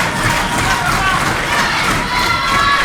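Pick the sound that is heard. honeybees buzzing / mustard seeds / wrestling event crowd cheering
wrestling event crowd cheering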